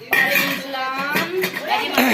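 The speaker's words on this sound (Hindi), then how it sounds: "बर्तन वगैरह इकट्ठे हो रहे हैं" Dishes, pots and cutlery being gathered up after a home biryani meal, with dense overlapping clinks and clatters of metal and crockery close by throughout.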